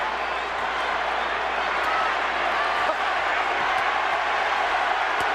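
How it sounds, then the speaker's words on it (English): A boxing arena crowd at the Pacquiao vs Clottey fight keeps up a dense, loud, steady roar of cheering and noise, with a few sharp claps or thuds standing out from the wash. "The crowd have really got into this, haven't they? They're living it."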